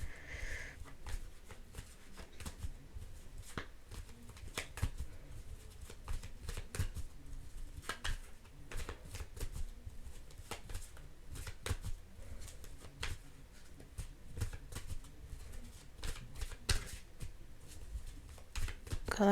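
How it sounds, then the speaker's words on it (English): A deck of playing cards is shuffled right against a microphone, producing a continuous stream of rapid riffling clicks and thumping bumps for about twenty seconds, with no talking. "When I was shuffling, when I was watching back my video, I noticed the cards are hitting the mic."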